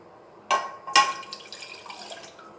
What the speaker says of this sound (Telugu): అదే బౌల్లో మళ్ళీ మనం ఒక గ్లాస్ వాటర్ యాడ్ చేసుకోండి.